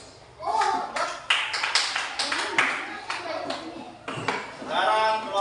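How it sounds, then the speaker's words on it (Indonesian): A classroom group claps in applause for a student team after their candle experiment, with dense overlapping claps filling most of the stretch and voices and children's chatter mixed in. "Kasih aplaus."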